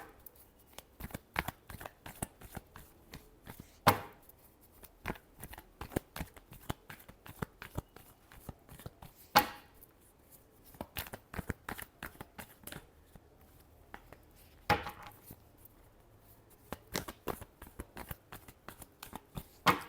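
Tarot cards are shuffled close by in quick, uneven bursts of crisp papery slaps and riffles, with short pauses between rounds and no voices.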